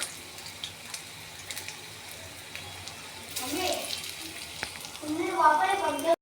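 Drumstick flower fritters frying in hot oil, a faint background hiss that swells into a louder, steady sizzle with crackles over the second half of the clip.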